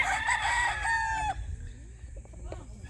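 A Lancy Gray gamefowl rooster gives one loud, close crow lasting over a second, followed by softer clucks and faint calls from other birds at a hillside farm.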